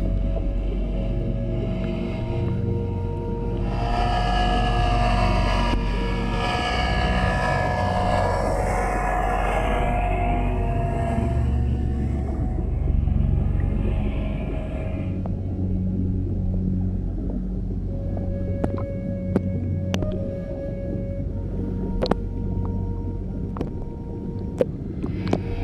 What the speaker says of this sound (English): Being able to hear boats underwater. And a boat motor will travel,